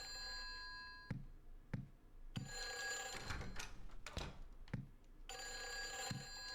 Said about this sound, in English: A phone call.